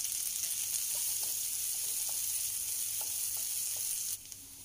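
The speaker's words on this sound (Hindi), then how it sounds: "और इस पर एक बड़ा प्याज कट करके डालें, इसको भी फ्राई कर लेते हैं 1 मिनट के लिए।" Chopped onion fries quietly in a pan for poha, a soft continuous sizzle with a few faint stirring taps, dropping away near the end.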